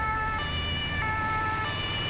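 Ambulance siren in GTA 5, a continuous wailing electronic tone sweeping steadily in pitch, heard alone at moderate loudness over a low road rumble.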